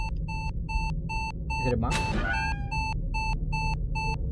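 Regular electronic beeps repeat steadily throughout in the game The Glitched Attraction, with a voice speaking briefly over them partway through.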